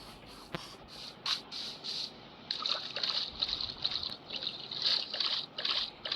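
Flowing river water in the Minecraft video game, a steady trickling and splashing stream with bright bubbling bursts, fairly close and continuous throughout, with no talk over it.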